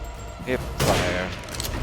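Hip-fired gunshots in Resident Evil Village, a pair of quick blasts with a booming tail over a busy game background, with a brief voice beneath.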